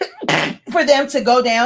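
A single loud, close sneeze bursts out abruptly, followed immediately by a person talking.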